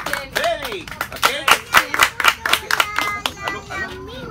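Children at a birthday party clap in quick, uneven bursts at close range, while high childish voices chatter and call out over the claps.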